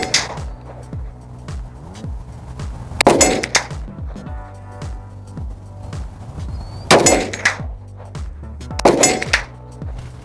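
A rifle shot is followed by the sharp metallic ding of a bullet striking a steel target 100 yards downrange. Several loud impacts with ringing clangs are spaced apart over steady background noise, with no talking.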